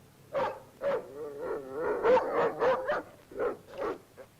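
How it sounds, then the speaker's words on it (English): A dog barks repeatedly in short bursts, close by, with a brief flurry of rapid barks in the middle. "Why is he barking?"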